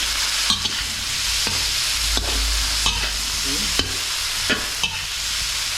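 Food sizzling in a frying pan while being stirred, with a constant hiss broken by a few distinct scraping knocks of the utensil.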